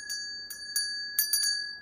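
A small bell rings in bright, clear strikes, about five or six irregular rings with short decays over a quiet background.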